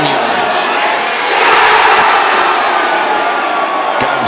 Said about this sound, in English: Got some love from the crowd